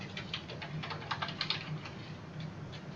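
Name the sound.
typing on a computer keyboard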